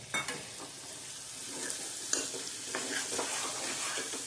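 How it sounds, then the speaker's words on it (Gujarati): Boiled chickpeas are stirred into a sizzling masala in a pan for chana nu shak, soft sizzling under repeated scraping spoon strokes and light clinks, moderately quiet and close, with no voices. "હવે આપણે એમાં ચણા નાખી દઈશું"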